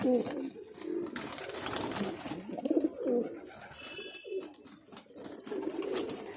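A pair of Andhra pigeons coo softly in low, rolling murmurs that repeat through the stretch, close by and fairly quiet, with faint background noise.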